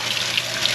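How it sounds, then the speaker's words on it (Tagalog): Tap water runs steadily into a basin while cleaned, headless river fish are rinsed, close and fairly loud with a few faint splashes and no talk. "Kasalukuyan na natin binabanlawan yung ating nilinisan sa ilog."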